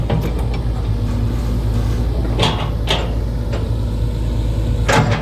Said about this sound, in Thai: รถไถดันดันดินกองอยู่ครับ